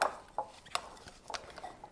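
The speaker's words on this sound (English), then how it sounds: "And then we're going to stir that all up." Utensil scraping and clinking against a bowl while stirring a cream cheese mixture for armadillo eggs, a few separate light taps and scrapes close by, fairly quiet with no talking.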